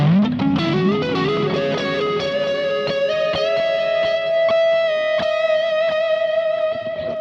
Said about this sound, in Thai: แต่ถ้าเราลองใส่ดีเลย์รีเวิร์บล่ะ